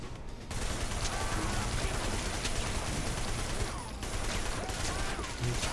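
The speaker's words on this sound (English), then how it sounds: "Shooting him through the boxes." Dense, rapid gunfire in the video game Triad Wars, a continuous fusillade of overlapping shots through crates at close range with barely any pause, with faint voices underneath.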